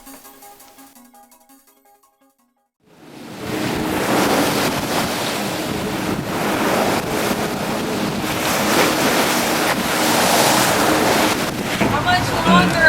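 Ocean waves rush and crash around a boat sailing the rough open Southern Ocean en route to Antarctica, a loud, continuous wash of surf and wind noise that swells after a quiet opening, with faint voices underneath.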